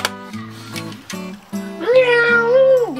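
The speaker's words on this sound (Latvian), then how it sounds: "3 kaķi nāk." Several cats meow close by, a string of short rising calls followed by a longer drawn-out wail, with a person's voice briefly mixed in.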